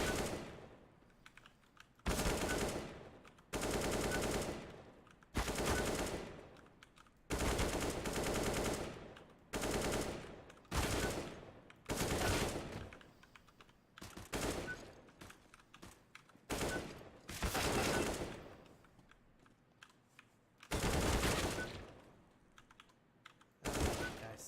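Gunfire from a first-person shooter video game, fired pre-emptively at corners: repeated loud bursts of rapid shots, each lasting about a second, separated by short quiet gaps across the whole stretch.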